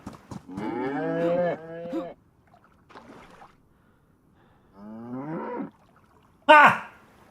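Cow in a modded multiplayer video game lets out several loud, drawn-out moos in separate bursts, with gaps of quiet between them and a short sharp noise near the end.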